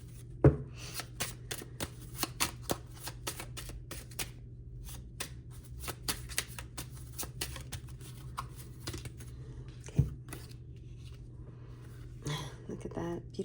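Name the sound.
tarot cards being turned over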